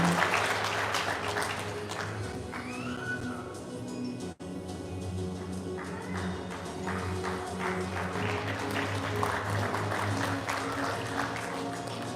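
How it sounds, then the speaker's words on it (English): Audience applause at a Guam Police Department promotion ceremony, honoring a newly promoted police sergeant; steady, sustained clapping from an indoor crowd with a low hum beneath, briefly dipping before resuming. "Let's give a round of applause to Sergeant James V. King"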